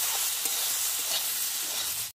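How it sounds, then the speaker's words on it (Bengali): Drumstick flowers and vegetables stir-frying in a pan with salt and turmeric, a steady close sizzle with faint stirring scrapes running continuously for about two seconds, no talking. "আরেকবার নেড়ে হালকা ভেজে নেব।"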